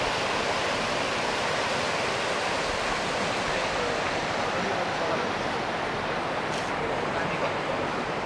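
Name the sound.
Arun River flowing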